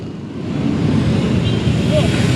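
Vintage motorcycles, Triumphs and Vespas, pass by in a steady engine rumble that builds and holds, with people talking over the passing bikes.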